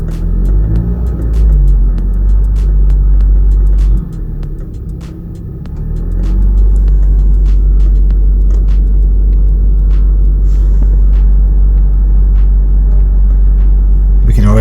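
An Audi TT engine idles low, then its revs rise briefly to about 1,000 RPM and settle into a steady, loud, close-up rumble.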